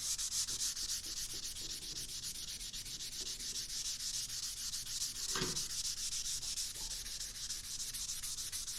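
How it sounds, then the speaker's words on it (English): A guitar body is rubbed with 400 grit sandpaper in quick, steady back-and-forth strokes, a close, continuous scratchy hiss with no talking. "Just a courtesy sand of 400."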